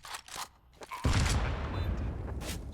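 Grenade explosions in Counter-Strike on the Overpass map: after a few faint, scattered game sounds, a loud blast erupts suddenly and rolls on as a dense, rumbling roar that holds to the end.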